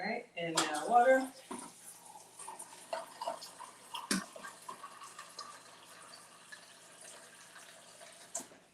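Water is poured into a glass of ice, a faint trickling fill with light clinks of ice and glass, under soft talk and quiet kitchen clatter.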